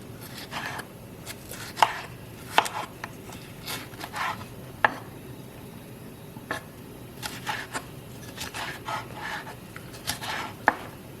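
A knife chops peppers on a cutting board in a home kitchen, giving irregular, fairly close taps that come in clusters with short pauses, all fairly quiet with no talking.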